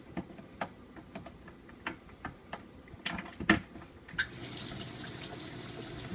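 Water sprays out of a dishwasher with its door latch held shut by a screwdriver: a steady, fairly loud rushing hiss starts partway through, after a stretch of scattered ticks and small clicks.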